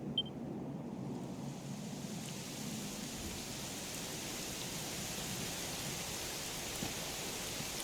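Rain falls steadily in the video game Dragon Quest XI, a soft, even wash of hiss that continues without voices throughout.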